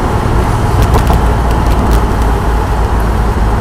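Datsun 240Z driving in heavy traffic, a loud constant interior drone of engine and road rumble with steady traffic noise around it.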